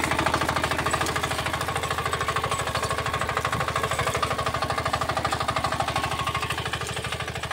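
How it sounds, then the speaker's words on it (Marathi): A Kirloskar 8 HP power weeder runs through a chilli field, its engine hammering in a fast, steady, loud rhythm throughout, close by and alone without speech. "हे पहा, आता आपण हे विटर इथं मिरच्यामध्ये चालवत आहोत."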